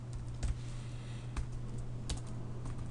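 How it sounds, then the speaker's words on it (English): Someone types on a computer keyboard, a few faint, scattered key clicks over a steady low electrical hum. "If I could type,"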